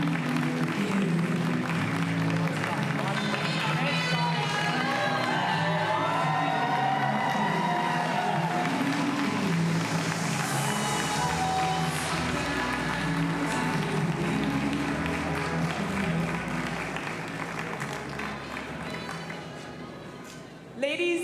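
A large crowd at a Conservative leadership convention applauds and cheers loudly and continuously as a candidate arrives on stage, a dense roar of clapping and voices that eases slightly near the end.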